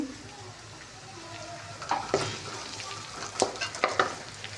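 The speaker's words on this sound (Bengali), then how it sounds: "এখন এটা কষানো প্রায় শেষ হয়ে গেছে" Spices and boiled mung dal sizzle and fry in a pan while being stirred, a steady close crackle with repeated scraping stir strokes growing louder toward the end.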